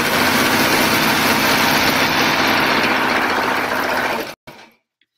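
A sewing machine stitches a rag quilt with a fast, continuous mechanical whir and needle chatter, close and loud, which runs steadily for about four seconds and then stops, leaving a brief faint clunk.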